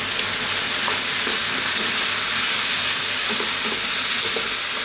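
Garlic and spices fry in a pan over medium heat for a chili con carne, a loud, dense, continuous sizzle close up with faint scraping from stirring underneath.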